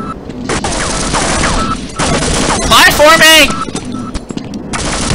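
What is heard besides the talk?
turrets firing in the video game Half-Life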